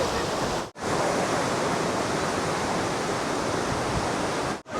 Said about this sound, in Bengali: সমুদ্রে এখন প্রবল ঢেউ, জল একেবারে পাড়ে চলে এসছে।